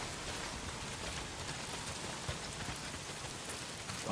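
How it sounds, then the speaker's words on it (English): Heavy rain pours steadily in the video game Days Gone, a dense, even hiss of drops on surfaces with no pauses, loud and alone without voices. "Well, not if it's pissing down rain."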